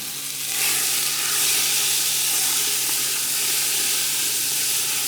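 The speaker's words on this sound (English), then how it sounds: "So in the pan now, we've got our lamb trim, nice and hot." Lamb trim sizzles steadily in a hot pan, a dense, continuous frying hiss that swells slightly after the first half second and holds close and loud without any talk.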